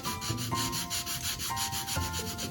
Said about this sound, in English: by rubbing, it's pulling up some of this stuff off of here